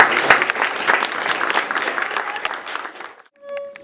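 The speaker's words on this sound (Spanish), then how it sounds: "yo quiero pedir un aplauso para" An audience at an academic conference day applauds. The clapping is dense and close, fades after about three seconds, and then a brief tonal sound follows.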